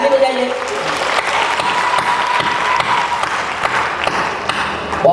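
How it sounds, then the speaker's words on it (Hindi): A large crowd applauds steadily at a Hindi poetry recital (kavi sammelan) during a Sirsaganj Arya Virat Mahakumbh gathering, a loud, continuous wash of clapping that holds evenly for several seconds. "जो सुनना चाहते ताली बजाइए"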